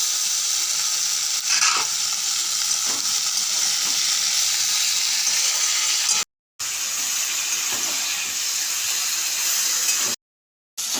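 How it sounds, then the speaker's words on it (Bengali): Broken fish heads and onions fry in a hot pan, giving a steady, loud, hissing sizzle that runs almost without a break, cutting out briefly twice, with no talking. "এবারে মাছের মাথাগুলো ভেঙেছি সেগুলো দিয়ে দিলাম।"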